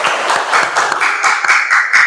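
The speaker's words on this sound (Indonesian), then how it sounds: "tepuk tangan untuk kita semua" A classroom of students claps together in a teacher's lesson, a fast run of sharp, loud, closely spaced hand claps in a steady rhythm.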